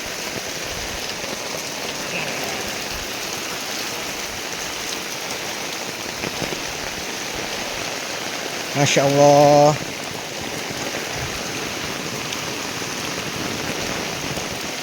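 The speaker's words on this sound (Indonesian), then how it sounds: "hujannya sangat deras sekali ya" Heavy rain pours down steadily in a dense, continuous hiss; a brief exclamation from a voice rises midway through.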